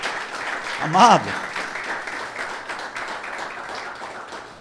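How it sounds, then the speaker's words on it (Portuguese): A church audience claps in a loose, continuing round of applause while a voice speaks briefly over it, the clapping gradually fading toward the end. "dê um aplauso a Jesus"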